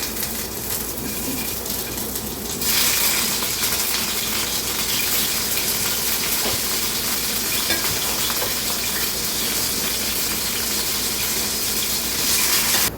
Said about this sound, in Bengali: মাছগুলো ভেজে নিচ্ছি আমি গরম তেলে।